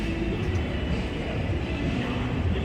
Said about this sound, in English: And here comes the little tram, the free tram.